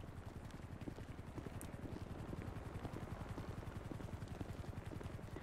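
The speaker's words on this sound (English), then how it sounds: "is that a helicopter?" Rapid, steady rotor chop of a helicopter in GTA 5, loud and continuous, with a game-like mechanical drone throughout.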